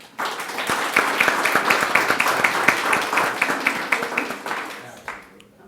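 Audience applause at a county board meeting honoring an employee for 15 years of service, a dense steady clapping from a room of people that holds for about five seconds before tapering off quickly at the end.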